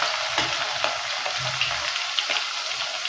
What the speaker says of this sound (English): Need to be able to get a nice sizzle.